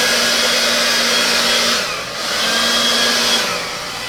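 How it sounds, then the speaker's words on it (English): Hair dryer blowing loud and close with a steady whirring hum, briefly dipping in pitch and airflow midway as if moved or redirected, then resuming at full strength. "Now somebody told me to turn the hairdryer upside down"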